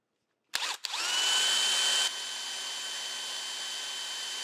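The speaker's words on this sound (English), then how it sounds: "I am drilling into a web though" An electric drill bores into a metal web during a Thompson grinder restoration. After a short silence it starts with a couple of bursts, then settles into a loud, steady whine that drops slightly in level and continues close by.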